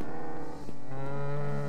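A cow moos outside in The Anomaly Project, one long loud lowing call that breaks briefly and then carries on in a sustained, droning bellow, close and clear.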